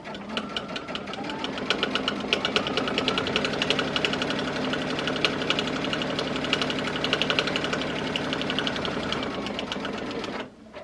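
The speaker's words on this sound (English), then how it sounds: "I'm going to sew 1/8 of an inch all the way around to close up my binding. I'm going to use a walking foot" A sewing machine with a walking foot stitches binding around a quilted placemat, a fast, steady mechanical whir and rhythmic needle clatter running close and continuous before stopping at the end.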